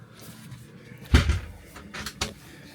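A wardrobe door in the bedroom area of a Cropredy Campers Sunlight Cliff 600RT campervan opens with a solid thump, followed by a couple of lighter knocks, close up in a small interior.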